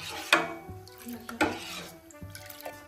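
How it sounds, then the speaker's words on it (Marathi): A spoon stirring a thick poha papad paste of flattened rice and sago in a pot on the stove, with sharp clinks against the metal rim and soft wet scraping between them, close and moderately loud. "उकळेसवर चांगलं ढवळत राहायचं, म्हणजे शाबूस तांदूळ खाली चिकटणार नाही"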